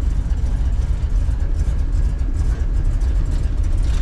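1965 Plymouth Fury wagon fitted with Sniper 2 EFI, dropped into gear at idle: a close, steady low rumbling engine with a slightly uneven lope, no voices.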